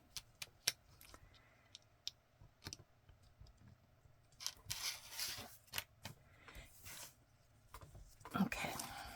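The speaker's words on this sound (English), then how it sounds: "I can trim off the edge once they're glued in place" Scissors trimming the edges of paper glued into a junk journal, producing sparse sharp snips and clicks, close and fairly quiet, with rustling of paper and faint talk in the background.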